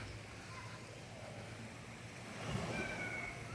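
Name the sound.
sea waves on the shore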